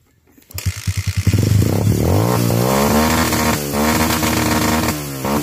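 A motorcycle engine sputters to life with a few quick pulses, then revs up loud and close, settling into a strong, steady roar with slight rises and dips.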